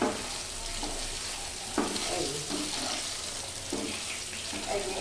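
Chitol fish dumplings (muitha) frying in oil, giving a steady close sizzle with occasional bursts and light stirring or clinking as pieces are turned and lifted.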